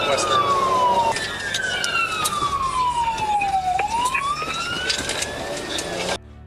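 A police car siren wails close by during a pursuit, sweeping up and down in long glides over traffic noise, then cuts off abruptly near the end.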